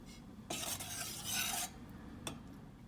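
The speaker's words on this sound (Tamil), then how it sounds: "இதையும் நல்லா மிக்ஸ் பண்ணி விட்டுக்கலாம்." Sugar syrup with a few drops of lemon juice is stirred in a pan for thaen mittai, a close scraping, swishing burst of stirring that rises for about a second, then a short final scrape, with no voices.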